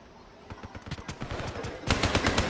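Rapid bursts of Man of War rifle fire in Black Ops 3, sharp shots in quick succession that grow louder and denser toward the end, with a game soundscape behind.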